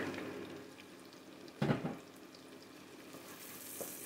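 Chopped leek going into a pan with bacon for a tripe dish, a soft steady sizzle punctuated midway by one brief louder burst of frying and stirring, then settling back to a gentle hiss.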